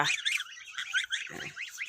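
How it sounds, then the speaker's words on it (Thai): Young geese honking close by, a steady run of high, nasal calls over about two seconds with a brief rustle partway through. "มาดูน้องๆห่านน้อยน่ารักจ้ะพี่น้อง"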